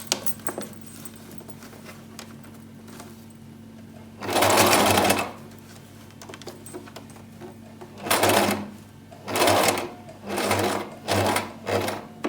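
A sewing machine stitches hair weft for a wig in several short bursts: one long run, then a longer pause, then a cluster of quick back-to-back runs over a faint background hum.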